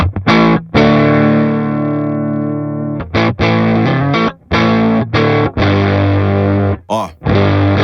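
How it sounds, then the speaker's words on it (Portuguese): A Mooer GTRS smart guitar simulating a Les Paul with humbucker tone plays distorted chords and riffs, loud and close, with a long sustained chord followed by choppy, stop-start strums separated by brief silences. "Então esse é o som da Les Paul."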